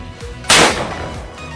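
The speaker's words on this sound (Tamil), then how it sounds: "இது நல்ல வெடி சவுண்டு." A paper sound cracker firework explodes once with a sharp, loud bang, followed by a short fading rumble, heard alone outdoors.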